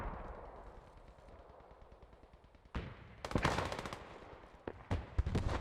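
Gunfire in the video game Post Scriptum during a tank-supported combat match: a steady hiss of distant battle, then sharp bursts of rapid machine-gun fire and scattered single shots, fairly quiet overall with no talk.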